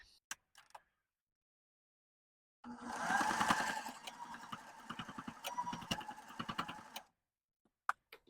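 A sewing machine stitches back and forth over elastic at the end of a fabric scrub cap, a dense, steady mechanical chatter running for several seconds with a few soft clicks before and after.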